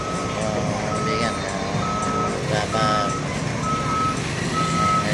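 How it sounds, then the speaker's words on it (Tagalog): A trailer truck backs up in heavy traffic, its reversing alarm sounding steady repeated beeps about once a second over a loud engine rumble and street noise, with voices nearby. "Sa pagkaka-atraso ng itong isang di-trail truck"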